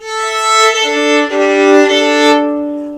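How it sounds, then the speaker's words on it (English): A solo violin sustains a bowed note with rich, bright harmonics, shifting slightly in pitch partway through before fading out, alone and close. "You see, my violin normally sounds like this."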